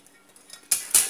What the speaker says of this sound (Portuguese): Vou estar colocando feijão aqui na panela.